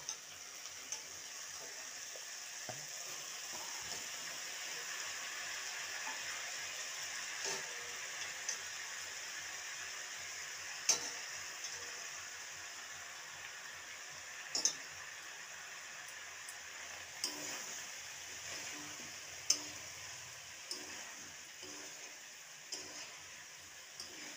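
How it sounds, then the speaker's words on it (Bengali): Drumstick stalks sauté in a pan with fried potato and lentil bori, a faint steady sizzle and hiss broken by occasional sharp ticks and pops of the ingredients over a long stretch. "এখন আমি ডাঁটাটা দিয়ে একটু কিছুক্ষণ কষিয়ে নেব।"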